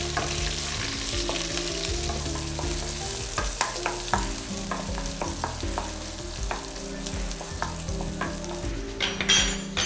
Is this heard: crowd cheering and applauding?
no